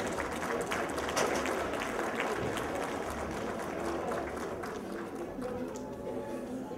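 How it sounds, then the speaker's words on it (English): Broad, sustained applause from an event audience, a steady wash of clapping filling the whole stretch at even loudness, with faint crowd murmur and a little talk underneath. "A round of applause, please."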